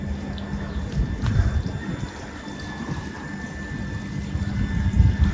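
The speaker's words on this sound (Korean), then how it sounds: "여기 인공폭포도 만들었네요." Steady splashing and trickling water from an artificial waterfall in an ornately decorated traditional Iranian building in Bushehr, a continuous moderate wash of flowing water with no speech.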